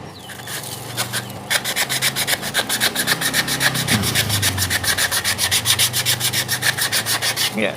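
Rhythmic, rasping strokes of coarse sandpaper work over the body of an old Cosmos motor rescued from scrap, close and loud, settling into a fast, even back-and-forth scrub after a hesitant start.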